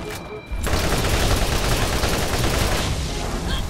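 Heavy gunfire in a video game, a dense, loud barrage of rapid shots that starts abruptly and keeps going without a break for about three seconds.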